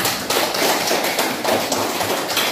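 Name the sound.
classroom applause for a group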